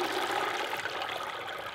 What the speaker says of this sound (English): dunk it for about 3 seconds when it's in the water